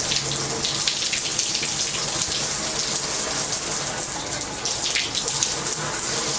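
Warm water runs steadily from a household tap during plumbing work after a new water heater install, a continuous close gushing hiss with no break, alone without talk.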